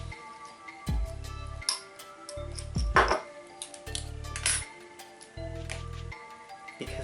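A glass jar with a clasp-style lid being taken apart, giving several bright clinks and small knocks at close range, with a low electronic hum pulsing on and off in the background.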